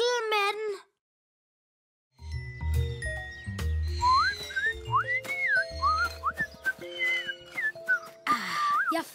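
Children blow whistling notes across the tops of empty juice boxes, a string of rising and falling tones over a busy, cluttered background, with a brief baby-like cry at the start.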